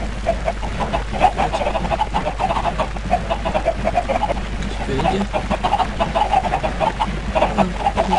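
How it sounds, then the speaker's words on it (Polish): Minecraft chickens cluck in a steady, repeated stream at close range, with a crowd of birds packed together and a voice speaking briefly over them. "Mam tyle kurczaków."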